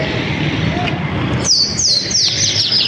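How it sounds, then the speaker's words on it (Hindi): Pigeons on a rooftop in a flying contest give bright chirping calls that begin midway and repeat in quick succession, close and fairly loud over steady outdoor noise and distant traffic. "समझ के रोकना कबूतर"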